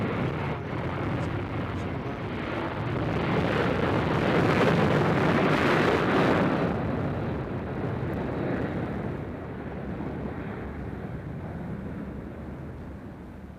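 An airliner bound for LAX taking off at Nashville International Airport, a broad roaring jet rumble with wind noise that swells to a peak and slowly fades as it climbs away, heard from a distance.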